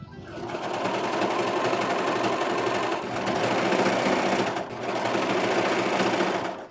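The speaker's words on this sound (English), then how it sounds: "I just run the overlocker." An overlocker runs along the edge of an oversized T-shirt with its left needle tension turned down to zero, a loud, continuous mechanical whir broken by two brief pauses.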